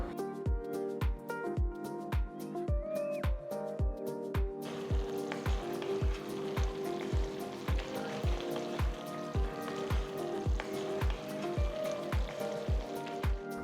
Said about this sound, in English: Cook the radish for about 10 minutes to make sure the raw smell is all gone.